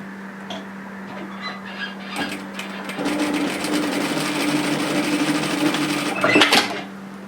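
A sewing machine stitches a seam across a jacket band, starting with a few short taps before running in a fast, steady whirring hum for several seconds, then stopping.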